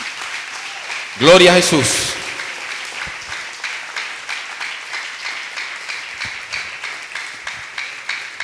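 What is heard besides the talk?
congregation applause in church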